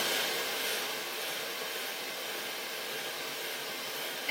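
Hair dryer during a round brush blow-out, a loud, steady close-up whoosh of airflow running unbroken from start to finish.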